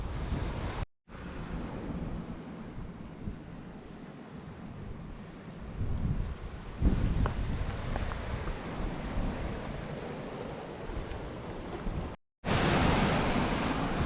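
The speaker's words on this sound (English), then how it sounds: "There's another set of waves coming in." North Sea waves roll in and crash against rocks on the Scottish coast, a broad, continuous roar of surf with wind buffeting the microphone and a heavier surge midway through.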